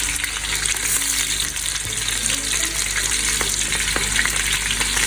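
Chopped onions fry in a pan for a mutton goat heart dish, producing a loud, dense, continuous sizzle close up, with faint scraping now and then and no voices.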